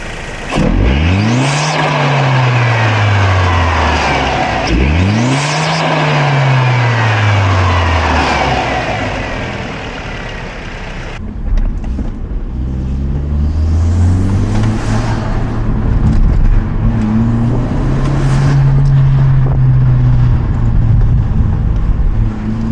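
Hyundai Genesis Coupe fitted with a K&N cold air intake revving twice in strong rising-and-falling sweeps, then idling and revving again more gently with blow-off valve hiss, loud and close with no talking.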